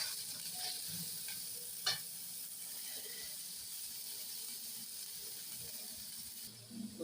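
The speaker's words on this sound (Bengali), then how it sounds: "আগে থেকে ফুলকপিগুলো কেটে ধুয়ে নিলাম, রেখেছিলাম। এই দিয়ে দিলাম।" Cut, washed cauliflower florets sizzle steadily in hot oil in a pan, with a constant frying hiss throughout, a brief sharp clatter near the start, and faint stirring or utensil sounds toward the end.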